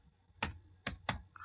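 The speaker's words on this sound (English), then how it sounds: "I'm just going to click and start typing" Three sharp computer keyboard keystrokes while entering text in a design program, spaced irregularly with a soft click near the end, close and fairly quiet.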